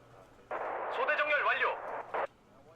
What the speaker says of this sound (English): Let's drop some howitzers on it.